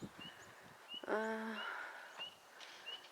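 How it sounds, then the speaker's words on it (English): Several songbirds calling around filled feeders outdoors, with thin chirps scattered through and one louder harmonic call standing out briefly, fairly close and otherwise quiet. "You can hear all the birds."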